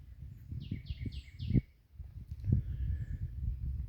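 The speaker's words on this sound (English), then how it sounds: "here you're hearing bird chirping everywhere, different sounds" Several quick bird chirps repeat in a short series over rustling outdoor noise in Jamaica, with a few more faint calls afterward.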